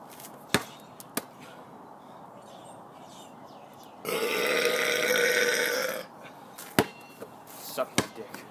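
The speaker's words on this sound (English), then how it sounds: "Now I have to do 3 burps." A long, loud, gurgling burp lasts about two seconds, with a few sharp knocks and thumps before and after it in a casual indoor setting.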